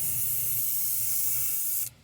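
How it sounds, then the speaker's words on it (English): Steady, close hiss of spray paint misted at an angle across a wooden jointed wake bait fishing lure carved from a stick, running continuously before cutting off abruptly near the end. "we're just gonna spray this at an angle"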